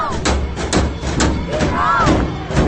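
Drum beating at a crowd protest for Iran's freedom, recorded close: regular loud thuds about every quarter second, mixed with cheering and shouting voices from the crowd.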